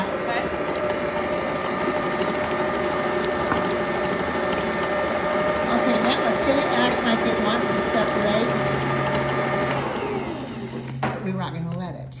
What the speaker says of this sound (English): It's amazing to hear the difference in the mixer, too.